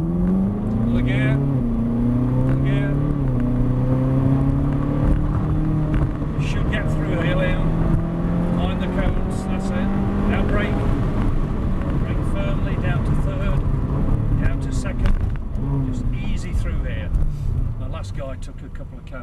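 Ferrari supercar on a track drive experience, its engine loud and close as it accelerates and climbs through gears in rising, sweeping pulls, with wind buffeting and people talking over it.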